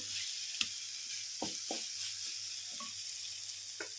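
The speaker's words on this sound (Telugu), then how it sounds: "దీన్ని అయితే కొంచెం ఫ్రై చేసుకోవాలి" Spiced masala curry with ivy gourd and onion frying in oil, a soft steady sizzle under occasional scattered clicks and taps of a spoon against the pan, no voices.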